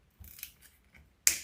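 Wire nippers snip through deco mesh wire on a large board for a poinsettia wreath, giving one sharp, bright metallic clip near the end after faint handling rustles.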